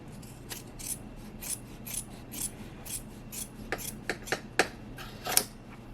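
Fabric scissors trim the seam allowance on the stitched bottom of a quilted shoulder bag's liner, a run of repeated soft snipping and rasping cuts, close and quiet, growing sharper and more distinct toward the end.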